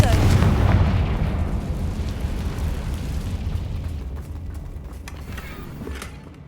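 A Confringo fire-blast spell bursts in Hogwarts Legacy, a loud low boom at the start that rumbles and decays slowly over several seconds into a fading crackling tail.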